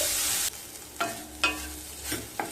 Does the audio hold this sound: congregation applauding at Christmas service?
no